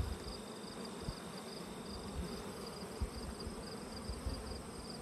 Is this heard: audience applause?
no